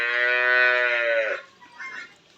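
A four-tooth Holstein Friesian dairy cow moos once in a long, loud, steady call lasting over a second, then breaks off into quieter farmyard background noise.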